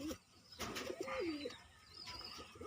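A pigeon coos nearby in soft, throaty, rolling calls, repeated several times over faint background noise.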